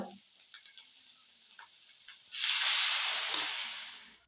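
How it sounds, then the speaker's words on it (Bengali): Spices for egg masala Maggi frying in a pan give a quiet sizzle with light ticks, then a sudden loud hissing surge that fades slowly. "একটু ভেজে নেব মশলাগুলো"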